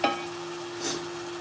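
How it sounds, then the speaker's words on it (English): Fish frying in hot oil in a pot gives a close, steady sizzle, with a louder hiss swelling briefly near the middle over a constant electrical hum. "You hear that sound and see the sizzle? That's what we want, guys. You want the sizzle."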